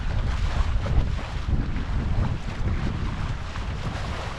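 Steady north-westerly wind buffets a sailboat reaching down a lake, a loud continuous rumble of gusts against the microphone mixed with water rush, with no talking.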